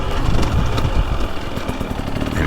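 A 2023 KTM 300XC two-stroke dirt bike with throttle body injection lugs along at low RPM, a loud, close, steady engine putter with a rapid rhythmic pulsing, continuing without pause.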